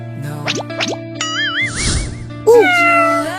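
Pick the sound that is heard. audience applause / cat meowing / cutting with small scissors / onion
cat meowing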